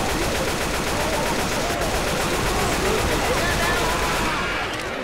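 An AK-47 in Left 4 Dead 2 fires in a sustained, rapid automatic burst, loud and dense from start to finish, with voices shouting over the shooting.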